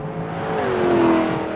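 A Lexus LC 500 convertible engine accelerates, a steady rising engine tone swelling in loudness and pitch across a short pull, heard alone with no talking.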